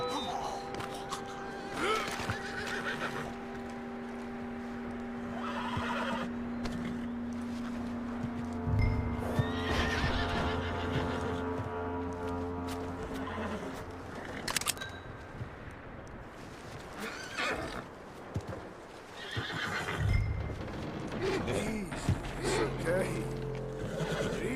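Horse sounds in the Red Dead Redemption 2 video game, with neighs, snorts and hoof clip-clops under a steady music bed, while characters talk over them at times.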